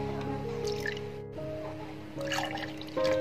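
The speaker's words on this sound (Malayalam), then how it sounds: "ഇനി നമുക്കിത് ഗ്ലാസ്സിലോട്ട് ഒഴിച്ചു കൊടുക്കാം." Watermelon mojito mixture is poured little by little into a glass, making faint, close dripping and trickling sounds against a quiet background.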